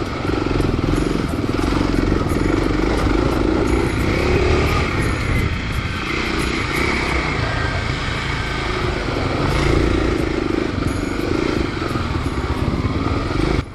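A KLX dual-sport motorcycle engine drones steadily and loudly while riding whooped-out, worn single track, with rough wind and clattering over the bumps and no pauses throughout.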